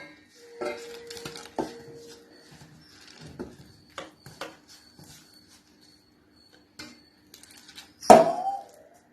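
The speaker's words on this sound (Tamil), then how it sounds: "இதுல நம்ம நல்லா கொதிக்கிற தண்ணிய கொஞ்சம் கொஞ்சமா ஊத்தி நல்லா பிசைஞ்சுக்கலாம்" Flour dough for paal kolukattai being mixed in a metal vessel as boiling water is poured in, sparse scraping and clinking of a spoon against the pot with quiet pauses, ending in one sharper clatter.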